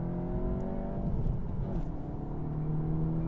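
A Volkswagen Golf 7.5 GTI Performance engine pulls hard in second gear, a steady, loud in-cabin drone with rising harmonic tones and no talk.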